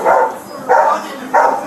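A dog at a late-night gas station police scene barks three times in even succession, loud and close, with no talk over it.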